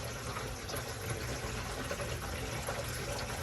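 Water pours steadily through the livewell drain valve on a Joyner 325CC World Cat boat, a close, continuous rushing and gurgling flow with no talk over it.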